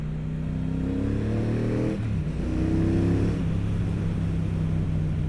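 A 2022 Triumph Speedmaster Goldline cruiser with chrome pipes runs close by, its steady low engine note rising in pitch as it revs, then easing back to a deep idle-like drone.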